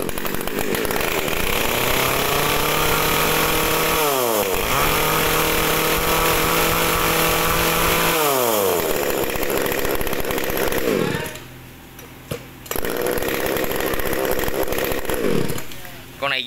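An Echo chainsaw engine runs loud and close, climbing repeatedly into high revs and dropping back to idle, then falls briefly quiet before revving up again.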